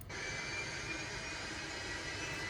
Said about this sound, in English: Now the temperature's coming down as the engine tears air through itself to pull out the heat.